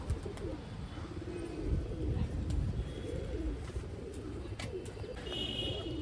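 Many pigeons in a loft cooing together in a steady low chorus, with occasional wing flutters and light knocks, continuous and close.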